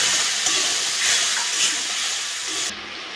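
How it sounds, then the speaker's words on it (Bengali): Spice masala frying in oil in a pan for aloo dum, a steady close hiss and sizzle with gentle bubbling that cuts off near the end. "মশলাটা ভালো করে কষে নিয়েছি"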